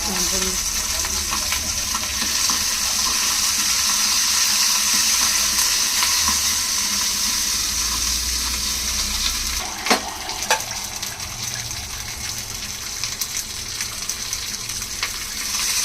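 Curry leaves frying in hot oil in a pan for gooseberry chutney, giving a loud, continuous close sizzle with a couple of brief clinks of stirring partway through.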